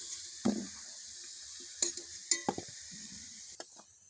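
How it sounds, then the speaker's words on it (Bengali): Onions frying in hot oil for beresta for a beef biryani, a soft sizzle under scattered stirring clinks and scrapes of a spoon against the pan, close up with no voices. "বেরেস্তা করে নেব"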